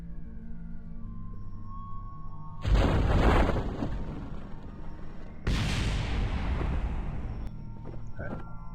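Two heavy, booming explosions in Kerbal Space Program, each a sudden loud blast with a long rumbling decay, the second arriving a few seconds after the first over a quiet hum.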